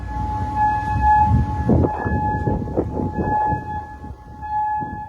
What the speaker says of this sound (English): This was one of the many air raid sirens that echoed across Kuwait today, signaling incoming drones and missiles